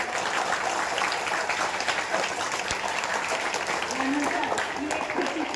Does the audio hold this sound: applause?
yes